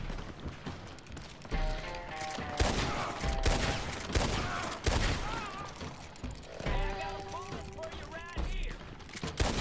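Heavy gunfire with explosive rounds in Red Dead Redemption 2, a loud barrage of shots and booming impacts running through the whole stretch, with voices talking over it.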